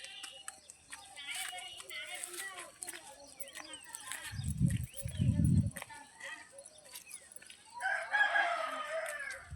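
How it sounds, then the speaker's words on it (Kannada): A rooster crows and hens cluck on a farm field with onion and lemon plants, the calls rising loudly near the middle and end while someone talks. "ಇಲ್ಲಿ ಹೊಲದಲ್ಲಿ ಕೋಳಿ,"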